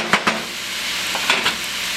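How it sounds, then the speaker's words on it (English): Ground beef sautéing in a pan with onions and celery, a steady close sizzle with a few louder bursts of stirring or scraping, no voices. "we're going to just saute our onions and our celery right on in there with that ground beef"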